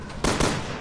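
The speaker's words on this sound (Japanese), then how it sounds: "今だ、ショットガン。" A single shotgun blast in the Resident Evil Revelations 2 video game, a short, loud, close boom that decays quickly over a low background.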